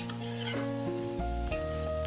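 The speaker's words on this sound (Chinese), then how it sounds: "周末四叔炒这白菜" Cabbage is stir-fried in a hot wok in a home kitchen, with a dense, continuous sizzle and a few scraping stirs of the spatula close by.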